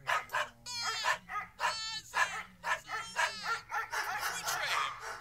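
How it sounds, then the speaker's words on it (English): Several dogs barking and yipping in quick bursts, fairly close and loud, with some whimpering between the barks and faint voices underneath. "Hey, Paul, those dogs are pretty loud."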